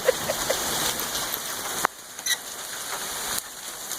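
Hail hits the ground and a camper in a dense, hissing patter, with a few sharper knocks; the clatter drops abruptly quieter partway through and continues at a lower level.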